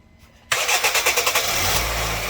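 A car engine is restarted: after a quiet moment the starter cranks in a rapid rhythmic series of loud, close pulses, then the engine catches and settles into a steady idle.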